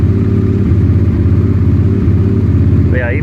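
Old carbureted motorcycle engine idling high during a cold-start warm-up: a loud, close, steady rumbling putter with a faint rising whine near the end.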